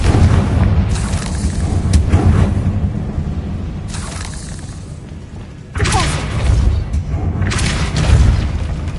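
Confringo fire spell bursts in Hogwarts Legacy, heavy booming explosions in two main waves with rumbling low thuds and debris-like crackle, loud and close.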